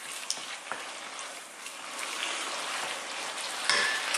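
Chicken and broccoli stir-fry sizzles steadily in a pan while being stirred, a close, continuous crackling hiss with scattered soft scrapes and taps throughout, no voices.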